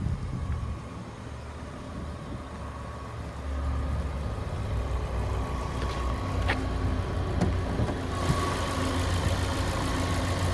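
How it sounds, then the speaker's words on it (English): The 2-liter turbocharged 4-cylinder engine of a 2020 Range Rover Velar R-Dynamic S idles with a steady close hum and faint ticking, rising slightly in level partway through, with no talking. "there's that 2-liter turbocharged 4-cylinder"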